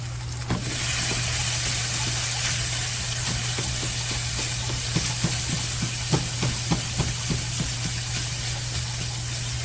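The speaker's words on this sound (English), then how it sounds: "now I'm going to brown this sausage" Sausage frying in a pan after the fat has been poured off, with a loud, continuous sizzle and hiss broken by repeated scraping and stirring ticks, and no talking.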